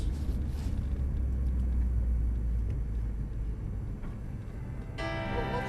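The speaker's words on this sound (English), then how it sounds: "So we'll go onto the brake and drop the gear." Nissan GT-R car interior during braking and a gear change, a steady loud engine and road rumble throughout, shifting toward a brighter buzzy tone near the end as the gear drops.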